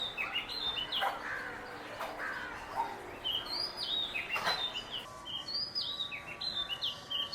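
A magpie robin sings outdoors at a moderate distance, repeating short sweet whistled phrases and chirps over a steady background hiss.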